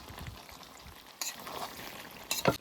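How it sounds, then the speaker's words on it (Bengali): Meat being sautéed in oil for Bengali khichuri, a quiet steady sizzle with two brief louder stirring scrapes near the end. "মাংস কষানো হয়ে গেছে এই দেখুন মাংসতে তেল ছেড়ে দিয়েছে"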